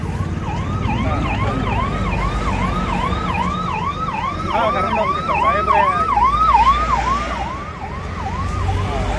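An ambulance siren wails in a steady, repeating up-and-down sweep, loud and close on a roadside near the scene of a road accident, with traffic rumble underneath and someone speaking over it.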